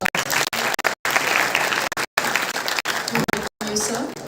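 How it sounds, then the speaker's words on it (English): An audience applauds at a result declaration ceremony, dense continuous clapping broken by a few brief dropouts, with a faint voice beneath it. "Please give him a huge round of applause."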